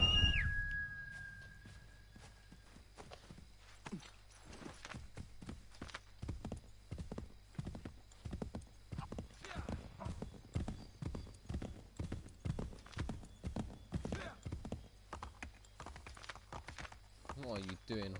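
In Assassin's Creed 3, a horse whinnies at the start, then its hooves clop in a steady walking rhythm on the ground, close and clear, with a voice speaking briefly over the hoofbeats.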